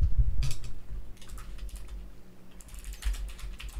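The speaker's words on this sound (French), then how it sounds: "Le son du clavier, il est trop satisfaisant." Rapid clattering keystrokes on a mechanical keyboard with new switches come in bursts, close and fairly quiet, with short pauses between flurries of clicks.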